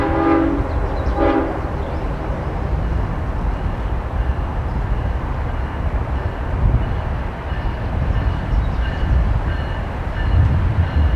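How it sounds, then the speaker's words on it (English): Union Pacific locomotive UP 2543 hauls a train across the Sandy River Trestle with a loud, steady rumble and rolling clatter throughout. A horn sounds briefly at the start. "We soon see UP 2543 pull through the Sandy River Trestle"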